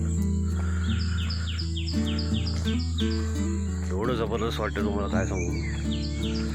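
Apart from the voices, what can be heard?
birds chirping in the Konkan countryside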